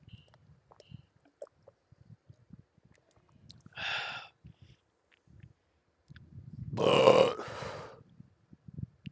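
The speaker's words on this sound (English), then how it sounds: "Yeah, I burped." A person burps twice against near silence with faint clicks: first a short, mid-loud belch, then a longer, louder, rougher one a few seconds later.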